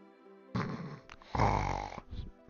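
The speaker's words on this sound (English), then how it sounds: "Snore." A character snores in the video game Final Fantasy VII, two drawn-out loud snoring breaths with a short gap between them, heard alone over a quiet game background.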